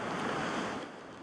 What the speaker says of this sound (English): it can also be brutal, with wind and waves tearing apart the shore